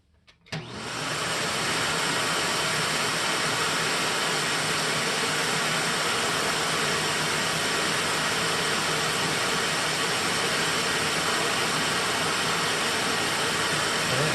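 An Electrolux vacuum cleaner with only the hose attached switches on and runs as a loud, steady broadband roar that holds without change after a brief start-up.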